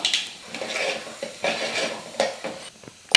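Ground pepper and cumin hit hot oil already crackling with mustard seeds and dried red chilies, giving a close, steady sizzle with scraping stirs and a few clinks of a utensil against the pan.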